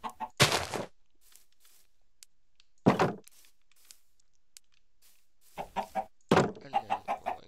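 Chickens in the Minecraft video game cluck in short bursts, several distinct clucks spread over the clip with silent gaps, clear and up close with no talking.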